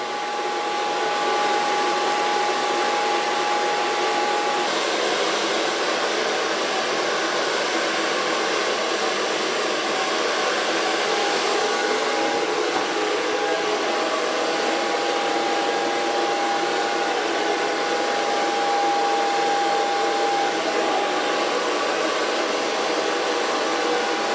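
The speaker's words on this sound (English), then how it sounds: "Start blow drying." A hair dryer blows a steady, loud whoosh with a constant whine while fine hair is blow-dried from the back, running unbroken with no talk.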